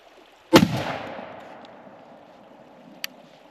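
A turkey shotgun fires a single 7.9 stacked load outdoors, one sharp loud blast with a long rolling echo that fades, followed by a faint click a few seconds later.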